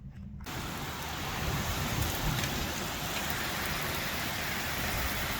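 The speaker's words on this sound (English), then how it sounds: "we're under a flash flood warning, and it's raining super hard. You can probably hear it." Heavy rain pours down during a flash flood warning. After a brief quiet start it becomes a dense, loud, continuous roar of drops hammering nearby surfaces.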